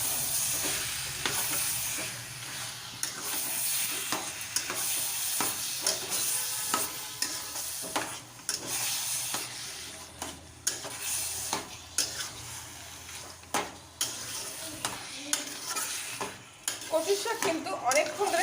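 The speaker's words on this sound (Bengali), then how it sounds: "সব কিছু দিয়ে এবার ভালো করে আবারও কষিয়ে নেবো" Taro leaves and soaked chickpeas are stir-fried in a pan, with a constant sizzle broken by repeated scraping and clattering strokes of a spatula, loud and close throughout.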